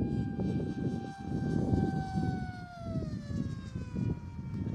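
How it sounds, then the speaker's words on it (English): A Dart XL motor on a Mini Drak RC plane powertrain whines at high pitch as it throttles up. The tone slides steadily downward over a loud, broad windy rumble that lasts the whole time, with no talk. "Just give it a bit of throttle."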